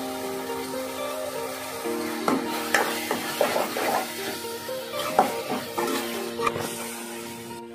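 A spoon stirs tempering in a pan for a puffed rice dish, with soft scraping and clinking strokes over a gentle sizzle while a steady tonal hum runs underneath.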